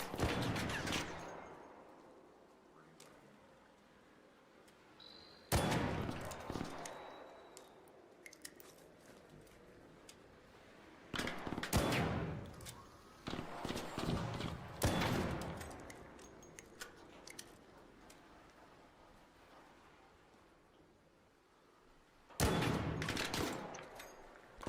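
Gunfire in a role-play shooter game comes in several loud, dense bursts of rapid shots separated by quieter stretches, with no talking over it.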